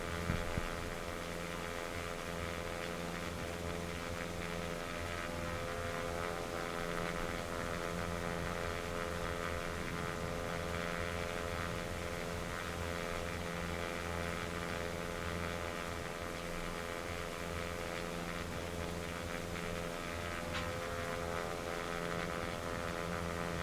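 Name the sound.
Cessna 172 engine droning in flight, X-Plane 11 video game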